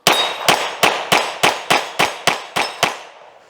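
A Beretta 92XI Gara pistol fires about ten rapid shots, each striking a small steel target with a sharp ringing clang, loud and close in an even, quick cadence with short decaying rings.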